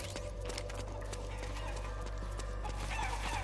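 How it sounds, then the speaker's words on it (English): Chickens clucking in the video game Metal Gear Solid 4, a run of short clucks over a low steady hum and droning game ambience, nearby and without talk. "Chickens."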